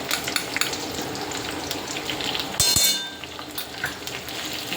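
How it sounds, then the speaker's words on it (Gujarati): A paneer mixture fries with a steady, bright sizzle in a pan, with a scrape and clink of a spoon as it is stirred partway through, close and continuous with no talking. "2 મિનિટ માટે ફ્રાય કરીશું।"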